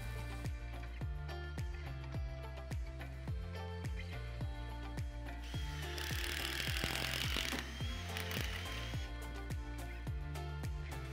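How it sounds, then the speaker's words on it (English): Power drill pre-drilling timber sleepers for a raised garden bed, a steady mechanical rattle with regular rhythmic clicks and a brief louder whine of bit biting into wood midway. "Then mark a line for pre-drilling and repeat on all sleepers."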